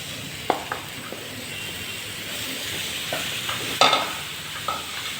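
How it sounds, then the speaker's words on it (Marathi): Mushrooms fried and stirred in a hot pan, a low steady sizzle broken by a few sharp scrapes and clatters of a spoon. "आता आपण त्यामध्ये हे मशरूम सोडूया"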